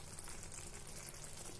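Bitter gourd pickle bubbling in a pan, a soft, steady hiss and crackle of boiling oil and spices, faint and continuous with no voices.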